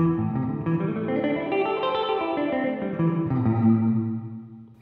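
Electric guitar practising a pentatonic line through a plate reverb, sustained harmonic notes blooming into a bright, lingering metallic wash that fades out at the end; the guitar plays alone, with no talking.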